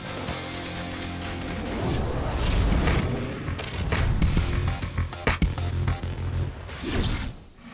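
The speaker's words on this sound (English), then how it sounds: "Fireworks in a bedroom." Fireworks going off inside a bedroom in the video game House of Hazards: a run of booming bursts and sharp cracks, several loud irregular blasts crowding one another before fading, with no talking.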